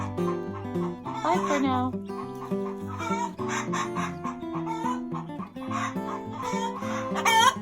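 Several hens cluck and squawk loudly and close by in a chicken coop on a farm, one scolding another in rapid, uneven bursts, with a brief spoken farewell near the end.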